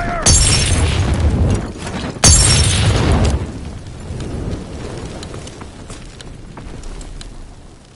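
Grenade blasts in the World War II shooter Call of Duty WWII: two heavy booming explosions a couple of seconds apart, loud and close, each trailing off into a long rumbling decay.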